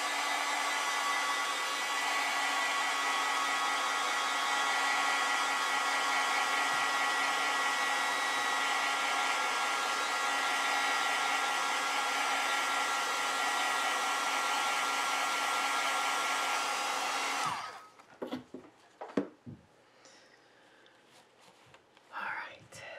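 A hair dryer blows steadily and loudly over a watercolor painting for about seventeen seconds, then shuts off, leaving soft handling noises and a quiet voice.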